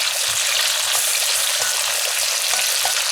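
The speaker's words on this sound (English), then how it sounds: "So our oil is hot. In goes the onion at first." Chopped onion hits hot oil and fries with a loud, dense, even sizzle close up, steady for a few seconds with no voice over it.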